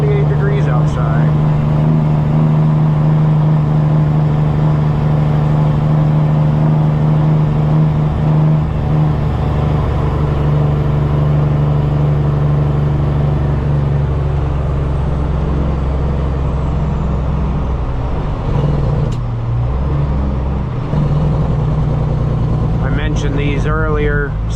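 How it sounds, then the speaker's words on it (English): Custom Peterbilt truck with its engine cooling fan switched on, a loud, steady low drone and whir running for over twenty seconds inside the cab, with brief bumps near the end. "Turn the engine fan on, cool her down a little bit"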